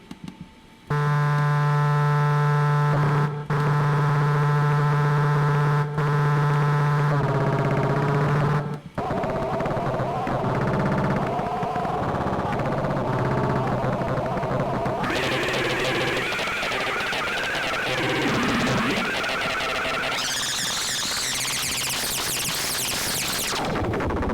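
Modular synthesizer patch producing electronic tones shifting abruptly between steady buzzy drones and noisy, sweeping textures, with pitch, octave and timbre changing in stages, loud and continuous.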